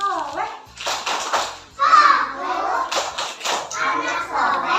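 Schoolchildren in an Indonesian classroom chant the rhythmic 'tepuk anak saleh' clapping song, their young voices loud and close with claps mixed into the chanting throughout.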